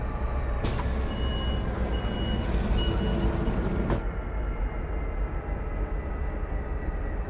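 Caltrain passenger train doors opening in Train Sim World 5, a steady electronic chime and hiss of door machinery over a constant engine rumble, stopping abruptly after a few seconds while the idle drone continues.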